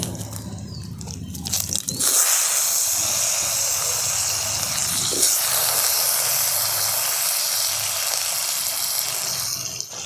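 Cut potatoes drop into hot oil with cumin seeds, setting off a sudden loud burst of sizzling that settles into a steady, close, hissing fry, with no talking.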